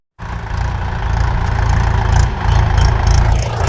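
A tractor engine starts up abruptly and then runs at a steady idle, a loud, close, low rumble that continues unbroken.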